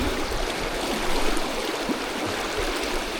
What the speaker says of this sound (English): The river's running really well.